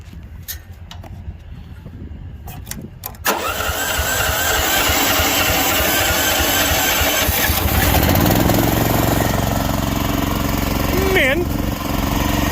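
An old Detroit engine cold-starts after a few sharp cranking bursts, catching abruptly and settling into a loud, rough, steady run close by, with a brief dip near the end; a voice is heard at the start.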